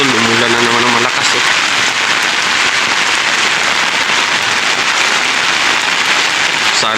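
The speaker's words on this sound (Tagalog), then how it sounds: "umulan na naman ng malakas" Heavy rain roars in a dense, constant hiss, loud and unbroken, with a faint tonal hum at the very start.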